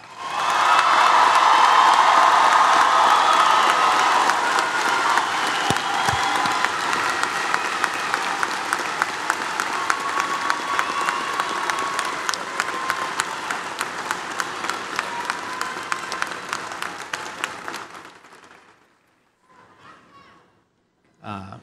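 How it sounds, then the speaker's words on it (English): An audience at the Penfield High School Class of 2023 graduation in the RIT Gordon Fieldhouse applauds the graduates, opening with loud clapping and cheers, then settling into rhythmic unison claps that fade out near the end, with voices heard afterward. "can we get an incredible round of applause for our graduates?"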